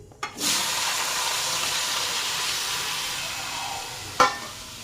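Cumin seeds tempering in hot oil give a sudden burst of sizzling that settles into a steady hiss, with a sharp clack near the end.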